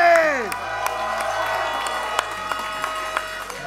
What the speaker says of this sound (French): j'aimerais à tout le monde dans la salle une grande main d'applaudissements pour Léo Vinci